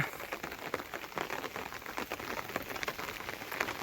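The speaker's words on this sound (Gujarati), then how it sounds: "વરસાદ હા ધીમો ધીમો સાટે પડી રહ્યો છે" Light rain patters steadily on a surface, a soft continuous spatter of drops with no voices.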